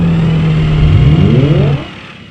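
A steady engine-like drone with a rising revving whine, made from a Dyson vacuum brush head, loud and continuous before dropping away near the end.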